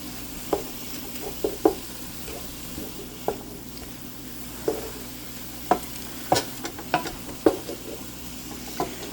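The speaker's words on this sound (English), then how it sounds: "I'm going to let this cook down for a few more minutes." Sweet red relish with garlic cooking down in a pan: a soft steady sizzle runs throughout while scattered sharp clicks and taps from stirring come at an irregular pace, close by.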